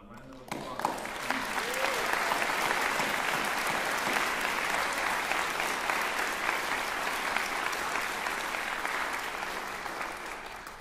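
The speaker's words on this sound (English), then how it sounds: "So, round of applause." Sustained applause from a large audience at a graduation commencement ceremony, swelling quickly and holding as a dense, steady clapping roar before slowly easing.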